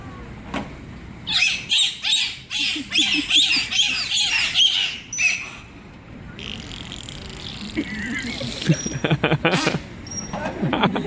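A run of loud, rhythmic high-pitched whistles and squeaky clicks from dolphins at a Vancouver Aquarium dolphin show, repeating in bursts, then a noisier stretch with scattered chirps and buzzing pulses.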